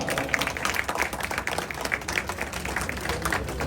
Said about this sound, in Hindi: एक बार फिर भरपूर तालियां।